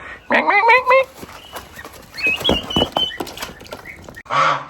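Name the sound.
young hen vocalizing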